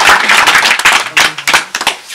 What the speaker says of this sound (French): c'est pareil, on peut l'applaudir